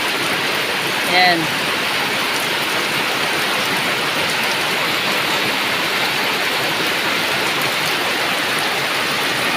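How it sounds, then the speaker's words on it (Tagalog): Heavy rain pours outside a house as a loud, constant hiss of water that never lets up, with one brief spoken word near the start. "umuulan guys."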